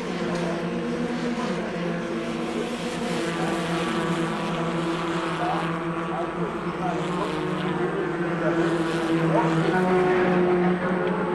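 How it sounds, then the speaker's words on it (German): 1994 Formula Renault race cars scream past on a circuit, a sustained high engine whine rising and falling as the cars pass, with a commentator talking over it throughout. "gefolgt von dem Briten James Rhodes auf diesem bläulichen Formel Renault"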